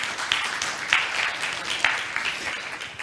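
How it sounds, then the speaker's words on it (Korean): An audience at an ICT industry outlook conference applauds to welcome a speaker, with steady, dense clapping from a hall full of people lasting about three seconds and no voices over it. "박수로 맞이해 주십시오."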